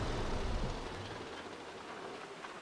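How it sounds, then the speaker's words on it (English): Steady rain drums on the metal roof of a farm mechanic bay in Farming Simulator 22, a dense continuous patter that is loud and close and fades slightly as it goes on, with no voices. "I can hear all the rain hitting the roof"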